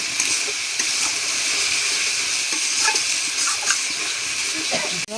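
Masala of chopped tomato, salt and a splash of milk sizzles and bubbles in a pan, stirred with repeated scraping clicks over a constant wet frying hiss.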